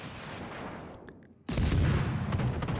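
Warship guns firing in World of Warships: Legends, a brief quiet lull broken by a sudden loud booming salvo that rolls on as sustained heavy rumble.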